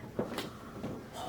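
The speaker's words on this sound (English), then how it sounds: "That door just shut." A faint, muffled thud of a door closing somewhere nearby, followed by a couple of soft knocks in an otherwise quiet room.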